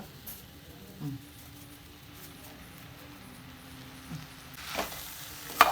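Mango pickle is stirred together with spice masala in a pan, making faint soft scraping and stirring noises with a few light knocks, quiet and close against a low background hiss.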